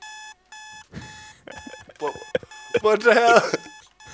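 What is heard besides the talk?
beeping in a video game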